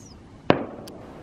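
A single firework bursts with one sharp, loud bang, followed by a crackling tail that fades over about half a second, with a quiet background before and after.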